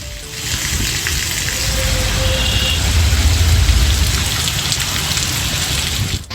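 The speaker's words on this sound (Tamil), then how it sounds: "சூறை காற்றுடன் கனமழை கொட்டியது" Heavy rain pours in a dense, steady roar with gusty wind, loud and close throughout, with no voices.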